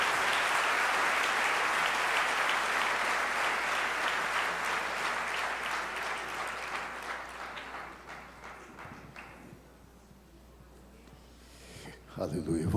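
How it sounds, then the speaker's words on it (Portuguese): A church congregation applauds in a long, dense wash of clapping that stays strong before gradually thinning and fading to near silence, with a brief swell returning right at the end. "Aplauda ao Senhor em nome do Senhor Jesus."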